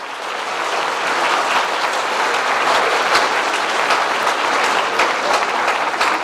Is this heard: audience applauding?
yes